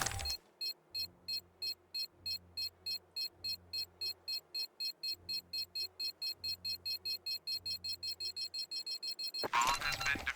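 A planted bomb in CS2 beeps in a steady rapid series of short electronic tones that speed up over about nine seconds, then ends in a loud burst of noise.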